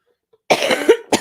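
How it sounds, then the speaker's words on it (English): A man gives a single harsh cough close to the microphone, followed by a short second burst, with silence before it. "We can't both be coughing here."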